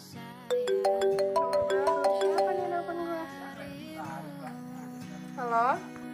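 A phone ringtone plays a repeated melodic tune of bright electronic tones, loud and close, with a short rising trill near the end before the call is answered in an Indonesian short film.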